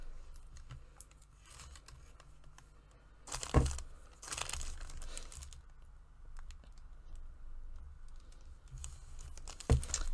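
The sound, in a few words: peeling away vinyl design with a weeding tool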